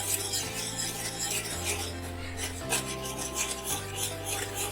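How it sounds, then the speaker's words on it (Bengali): A mixture being stirred continuously in a pan while flour is added for a homemade pizza: a steady, close, rasping scrape with no speech over it. "এইবার এই নাড়তে নাড়তেই আমরা এর সঙ্গে অ্যাড করব ময়দা"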